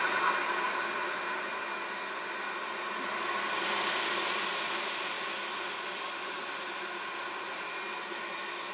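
A VS Sassoon 3Q hair dryer runs steadily at close range, a constant airy hiss with a slight swell midway and no voices.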